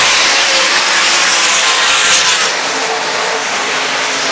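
Race cars at Southern Iowa Speedway produce a loud, continuous engine roar that holds steady, then eases slightly as they move off, with nobody talking.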